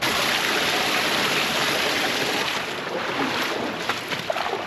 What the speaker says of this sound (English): We made it to the top of our first small waterfall.